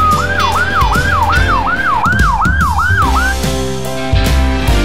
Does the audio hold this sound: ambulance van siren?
yes